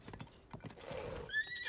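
A horse in Zelda: Tears of the Kingdom clip-clops with a few quick hoofbeats, then gives a short high whinny near the end, all in a brief burst without talk.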